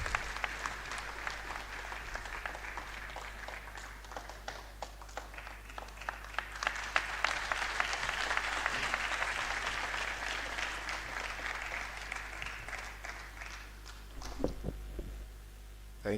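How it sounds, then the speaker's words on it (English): Audience at a university convocation lecture in Lagos applauding steadily as a former Lagos State governor steps up to the lectern, a sustained wash of clapping over a low hum that fades near the end. "A round of applause for him as he steps up."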